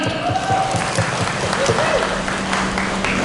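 An audience at an event industry presentation applauds the event vendors, a dense, steady wash of clapping that carries on under voices for a few seconds.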